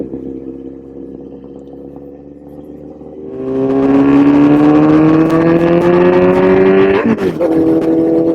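A superbike on a Sunday group ride in Sivasagar, Assam, steady at first, then its engine note climbs loudly and continuously as the throttle opens, rising in pitch for several seconds before a brief dip and recovery.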